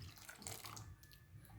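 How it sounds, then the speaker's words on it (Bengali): Mixed Amul milk poured into a pot of payesh made with nolen gur, a soft close liquid splashing and trickling, fairly quiet, with no voices. "দিয়ে দিচ্ছি গুলিয়ে রাখা আমুল দুধ"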